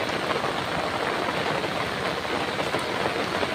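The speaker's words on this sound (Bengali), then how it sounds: "আপনাদের একটু দেখানোর চেষ্টা করি কত পরিমাণ বৃষ্টি" Heavy rain pours down in a dense, constant hiss with no pauses, loud and close, falling on a flooded road and fields during a sudden downpour.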